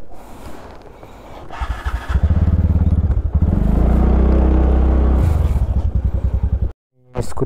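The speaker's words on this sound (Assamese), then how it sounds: "স্কুটিটো ইয়াৰ পৰা ষ্টাৰ্ট দিলোঁ।" A scooter engine starts up loud and close, settling into a steady rumbling idle for a few seconds before cutting off abruptly, then briefly catching again; a voice speaks faintly at the start.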